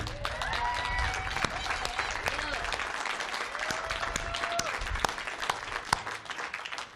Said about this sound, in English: A round of applause for everyone, community especially.